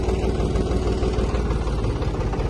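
A Deutz-Fahr tractor engine idles close by, a steady, rumbling sound, low and continuous throughout with no breaks or voices.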